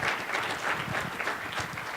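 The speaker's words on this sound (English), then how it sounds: "So I'd like you to give a big round of applause for Seth." Steady, dense applause from an audience at a transportation panel event, a brief continuous wash of clapping at even loudness.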